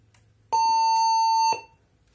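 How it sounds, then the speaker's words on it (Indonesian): A single steady electronic beep sounds for about a second, clear and close, from an HP Pavilion 20 all-in-one PC with its RAM removed, in otherwise quiet surroundings. "Nah, itu karena kita cabut RAM, dia pasti bunyi beep."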